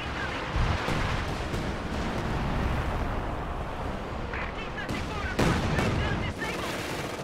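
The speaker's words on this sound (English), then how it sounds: "Tons of artillery going down, though." Heavy artillery and gunfire in a Company of Heroes 2 battle, with a continuous dense roar of blasts and rumbling impacts and louder bursts near the start and around the five-second mark.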